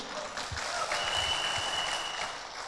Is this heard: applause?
yes